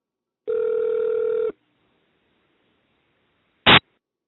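A telephone line during a call: one long steady electronic tone, then silence, then a short sharp burst of noise-like signal, clean and isolated with no voices.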